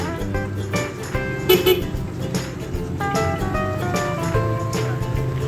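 A loud vehicle horn honks in a sustained, steady blare, with traffic noise around it at dusk.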